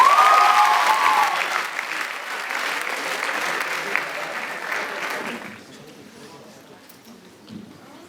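Audience applause at a school declamation competition welcoming a sophomore finalist, a dense burst of clapping that starts loud, fades gradually, then drops away to a few scattered claps near the end.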